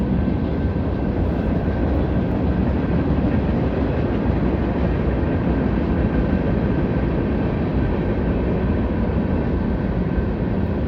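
A train hauling tanks rolls past close by, a loud continuous rumble with rail clatter that holds steady for the whole stretch.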